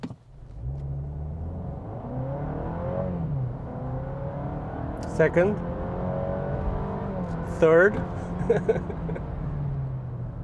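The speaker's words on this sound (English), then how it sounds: "That's just noise being pumped in through the speakers to simulate a sporty VTEC engine revving away under the hood." Synthetic VTEC-style engine revving plays through the cabin speakers of a Honda ZR-V hybrid, rising and falling in sweeps across gear changes, with a brief spoken voice over it.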